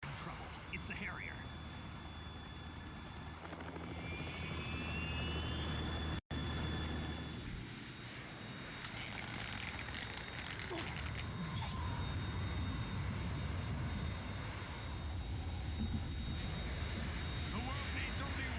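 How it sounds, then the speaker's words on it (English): A Harrier jet in the video game Metal Gear Solid 2 roars loudly throughout, mixed with metallic creaks and mechanical clanks, while voices talk over the din. "It's the Harrier."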